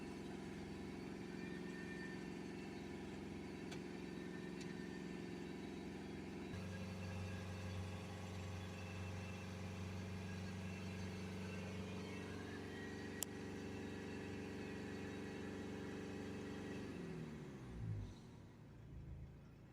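A Mercedes E-Class 2.1 CDI diesel engine runs steadily at 3000 rpm, a continuous droning hum with layered tones, then drops and sputters near the end.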